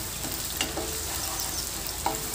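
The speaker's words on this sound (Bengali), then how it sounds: "পেঁয়াজ কুচিগুলো তেলের সাথে নাড়াচাড়া করে লাল লাল করে ভেজে নেব।" Chopped onions fry in oil with spices, giving a dense, steady sizzle with a couple of faint scraping strokes from stirring.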